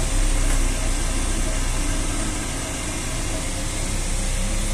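A car engine idles steadily at low revs during break-in after a transmission oil change, a constant, fairly quiet hum with no voices.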